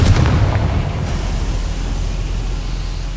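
A Confringo blasting spell detonates in Hogwarts Legacy, a loud booming burst at the start that fades into a rumbling, sustained roar.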